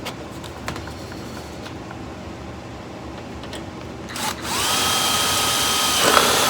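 A DeWalt cordless drill with a dying battery runs during rust repair on a 1970 Challenger's rear frame. Faint whirring and rattles give way to a loud, sustained high-pitched drilling whine near the end.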